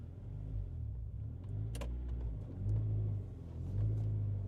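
A Honda CR-V engine runs after a fuel pump replacement, a steady low rumble that swells slightly as the vehicle is moved out of the garage, with a couple of faint clicks and no talking.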